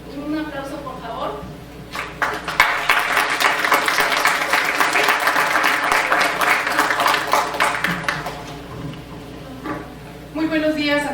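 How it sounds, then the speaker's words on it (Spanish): Sustained audience applause at a congress, a dense roomful of clapping swelling and then fading, with a voice talking before and after it. "Un aplauso, por favor"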